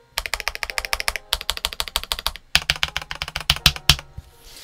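Rapid clacky keystrokes on a Cidoo ABM084 mechanical TKL keyboard with heavily oiled switches, close and crisp in steady bursts with two short pauses, no voices.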